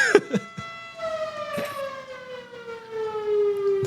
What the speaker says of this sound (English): Do you hear a siren?